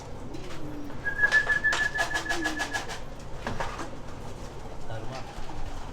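A racing pigeon coos close by, a soft rhythmic run of low notes, with a brief whistle and people talking quietly in the background.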